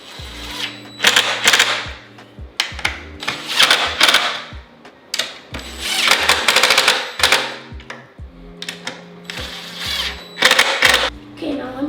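Bolts are tightened by hand while assembling sauna benches, giving repeated ratcheting and clicking bursts with metallic knocks at close range. A steady tonal hum sits beneath them.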